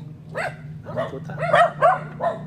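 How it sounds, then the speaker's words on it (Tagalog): Several farm dogs bark in a rapid series of yips and barks, fairly close and loud, with a steady low hum beneath. "Wala naman tao, kahol kayo ng kahol."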